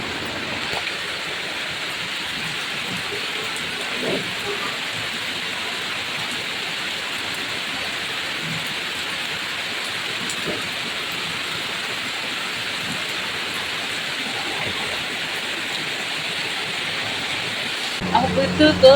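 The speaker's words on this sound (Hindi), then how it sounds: "और अच्छी खासी बारिश भी हुई आधे घंटे।" Steady heavy rain pours outside in a dense, even hiss that holds for the whole stretch, with a brief louder patch of close drops near the end and no clear voices over it.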